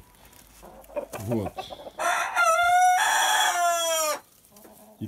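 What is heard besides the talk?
rooster clucking and crowing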